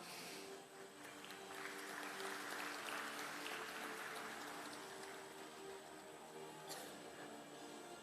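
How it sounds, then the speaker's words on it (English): Faint, steady applause from an audience at an awards ceremony, continuous over several seconds with a low background hum. "Ladies and gentlemen, keep the applause coming in."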